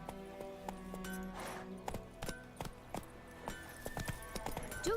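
Roach, a horse in the video game The Witcher, trots and gallops with a steady stream of clip-clop hoofbeats, close and fairly loud, over a layer of game music and ambience.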